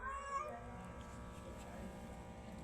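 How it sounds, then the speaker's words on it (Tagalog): A house cat lets out one loud meow at the start, then a quiet room tone carries on. "Maingay yung pusa ko."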